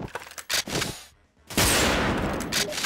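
Loud gunfire from the video game Wolfteam: a few sharp shots, a short silence, then a sustained close volley of rapid shots.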